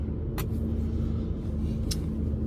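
A 2020 Nissan Armada SL engine idles after a push-button start, a steady low rumble heard from inside the cabin with two brief light clicks over the constant drone.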